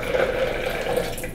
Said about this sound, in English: So then we do 3 cups of water. 3 cups of water to 1 cup of cashews.